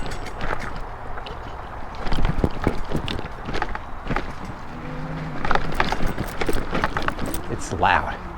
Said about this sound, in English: You hear that chain derailleur smacking all over the place?